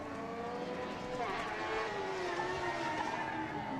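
A Formula SAE race car pulls away at an autocross event, its engine a steady, fairly loud drone with rising and shifting pitch throughout, heard amid continuous outdoor noise.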